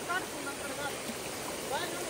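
Water rushing steadily during heavy rain on the Kalsubai trek in Maharashtra, a broad continuous wash of flowing water that fills the whole clip at close range.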